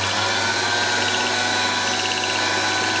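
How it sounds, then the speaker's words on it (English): A Wolf Precision valve refacer runs steadily with its motorized spindle slowly turning a valve beside the grinding wheel, giving a constant motor hum and whine throughout, close and fairly loud. "The valve is placed in the motorized spindle, which slowly rotates the valve when it comes in contact with the grinding wheel."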